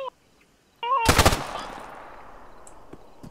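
A rapid burst of automatic gunfire from a video game, loud and sharp, followed by a fading echo tail, with brief electronic tones just before and faint talk around it.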